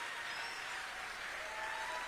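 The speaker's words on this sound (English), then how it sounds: "Senator Sanders, sorry, that's your applause." Audience applause at a political rally for Bernie Sanders in Portland, Maine, a dense continuous clapping from a large crowd, moderately distant and steady throughout.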